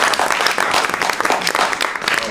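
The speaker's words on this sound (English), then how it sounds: "So another round of applause for our amazing performers." An audience applauds performers at a community event on healthcare for the homeless, steady dense clapping filling the whole stretch at close range, with no voices standing out.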